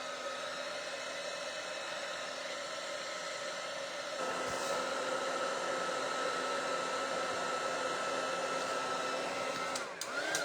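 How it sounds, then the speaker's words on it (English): Small heat gun blowing hot air to dry a craft votive holder, a steady continuous whooshing whir that shifts slightly in pitch midway and cuts off briefly near the end. "heat gun"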